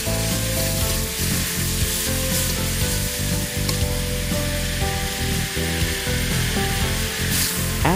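Pork and chilli sizzle steadily in a hot stir-fry pan, a dense continuous crackle with occasional scraping and tossing sounds, loud and close with no talking.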